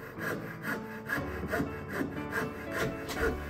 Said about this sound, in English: I get cleaner results by removing the bulk with a coping saw.